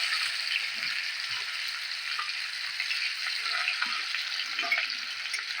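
Onions frying in oil for a prawn malai curry, a continuous hissing sizzle with faint scraping stirs underneath, no talking.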